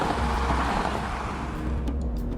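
A Mercedes C300 with a torquey 228-horsepower engine pulls hard from inside the cabin, a steady low engine and road drone holding at a constant level with no talk over it.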